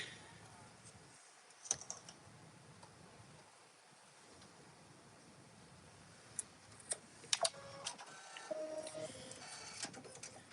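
An embroidery machine stitches the outline of an appliqué TV shape, giving a faint, steady mechanical ticking and whirring with a few sharper clicks standing out along the way. No one talks.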